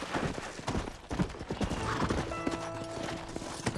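Horse hooves clip-clopping in a quick, steady rhythm in the video game Red Dead Redemption, fairly close, with faint mechanical clicks and tones layered over them.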